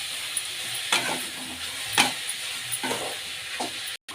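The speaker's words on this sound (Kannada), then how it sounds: "ಎಲ್ಲ ಚೆನ್ನಾಗಿ ಮಿಕ್ಸ್ ಮಾಡ್ಕೊಳ್ಳೋಣ" Cucumber rice masala being stirred in a hot pan: soft scraping strokes at an irregular rhythm over a faint steady sizzle, close up with no talking.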